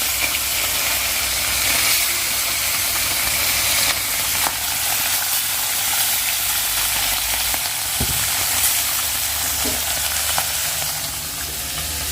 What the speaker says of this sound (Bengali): ছোট মাছগুলো ভাজা হয়ে গিয়েছে